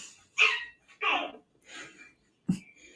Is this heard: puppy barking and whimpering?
yes